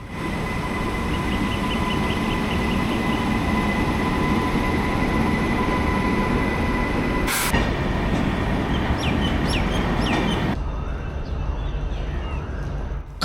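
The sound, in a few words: train arriving at Siliguri railway junction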